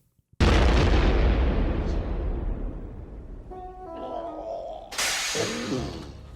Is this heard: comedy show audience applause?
no